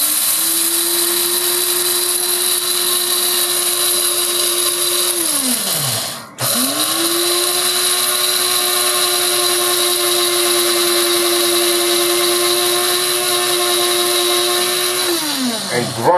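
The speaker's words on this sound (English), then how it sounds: "I'm going to grind my seeds." Flax seeds whirl in an electric grinder, a loud continuous motor whine that dips briefly as it stops and restarts, then runs steadily before winding down at the end.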